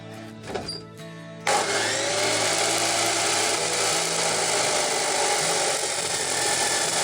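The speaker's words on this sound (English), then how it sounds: "I've got some steel, I've got my cutter" After a few faint knocks, a power cutter abruptly starts and grinds loudly and continuously through steel for mounting brackets, a harsh high whine filling the rest.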